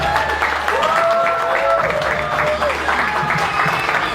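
A comedy club audience claps and cheers for a stand-up comedian, a dense, steady burst of applause with whoops rising over it and a voice talking underneath.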